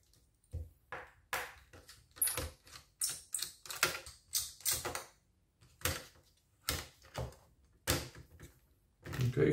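A small screwdriver clicks and ticks as screws come out of the battery of an HP ProBook 450 G5 laptop, with repeated sharp taps and scrapes in uneven bursts, close and quiet, with no talking.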